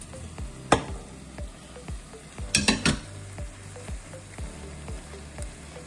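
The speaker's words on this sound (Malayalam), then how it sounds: "ഇനിയും ഇതിനകത്തേക്ക് നമ്മൾ ഇനി വെന്തിരിക്കുന്ന മട്ടൺ നമുക്ക് ഇതിലേക്ക് ഒഴിച്ചു കൊടുക്കാം" Cooked mutton and its gravy poured into a stew pot, a soft background sizzle broken by a few sharp clinks and bursts of wet splashing, then quieter scraping and stirring.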